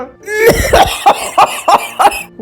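A run of coughs in a Bengali cartoon story, voiced as a tree coughing: one rough, harsh cough followed by about five more evenly spaced hacks, loud and close, with no other sound around them.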